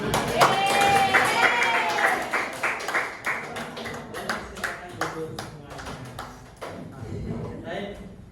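Children in a classroom clap their hands after a religious lesson, starting as a burst of scattered clapping with voices and then thinning into distinct rhythmic claps that fade out.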